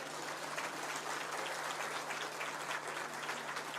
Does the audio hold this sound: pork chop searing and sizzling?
no